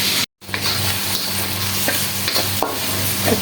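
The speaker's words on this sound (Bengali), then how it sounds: "তেলের ভিতরে পেঁয়াজ দিয়ে দিলাম, লবণ দিয়ে দিলাম।" Onions and salt fry in hot oil for a Bangladeshi hilsa fish dish, giving a loud, close, steady sizzle with a few stirring scrapes and a brief dropout near the start; no voices.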